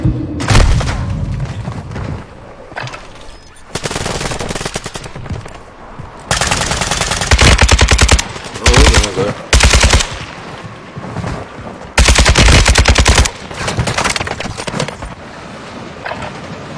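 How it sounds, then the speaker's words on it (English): Video game war zone with bursts of machine gun fire: loud, rapid rattling volleys in repeated bursts separated by short lulls, close and dominant with booming impacts mixed in. "I'm taking fire."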